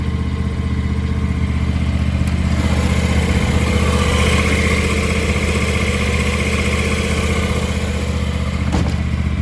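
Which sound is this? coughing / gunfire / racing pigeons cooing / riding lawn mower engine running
riding lawn mower engine running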